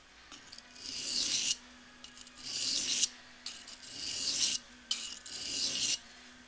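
A knife blade is sharpened to shape its edge bevels, giving close, rasping scrapes in four regular long strokes, each ending abruptly, with brief pauses between and no speech.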